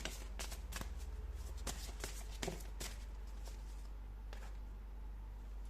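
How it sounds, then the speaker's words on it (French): Oracle cards being shuffled and drawn for a Virgo reading, giving a run of crisp, close slaps and riffling flicks in the first three seconds, then a few quieter taps over a steady low hum. "je vais prendre une seule carte de cet oracle"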